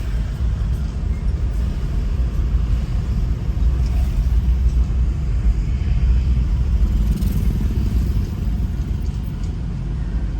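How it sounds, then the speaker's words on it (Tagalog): A loud generator drones without a break at a mall after a typhoon, a dense low rumble with a heavy steady hum that stays close and constant throughout. "Ang ingay ng generator guys, sobrang ingay."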